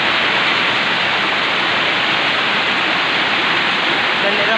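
Strong floodwater rushing past a house, a dense, steady roar of flowing water close by, loud and unbroken with no other sounds standing out.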